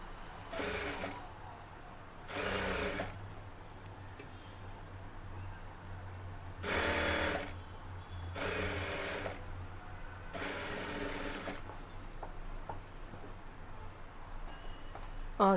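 A sewing machine stitches invisible thread piping in five distinct bursts of steady mechanical whirring, each lasting about a second, with quiet pauses between them and no talking.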